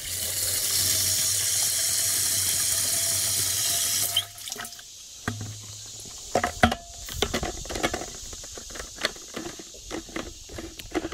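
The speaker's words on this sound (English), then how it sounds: "We're gonna rinse this out." Water rushes steadily from a tap while a chemical weed sprayer is rinsed out, then cuts off into scattered splashes, drips and clunks of handling the sprayer nearby.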